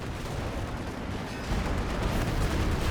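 Artillery shell barrage in Company of Heroes 2, with Stuka fire raining over a central capture point: a thick, continuous roar of overlapping blasts and booms that swells louder partway through, with no talk.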